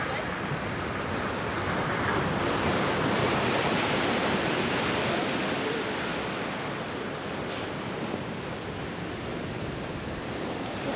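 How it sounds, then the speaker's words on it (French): Ocean surf breaking on a shore in the Seychelles, a steady, loud roar of rushing waves and foam that fills the whole stretch with only slight swells in intensity. "Là, je crois qu'on a une autre dose de vague"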